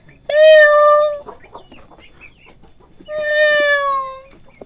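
A cat gives two clear, drawn-out meows about two seconds apart, loud and close, with faint rustling and quiet background noise between them.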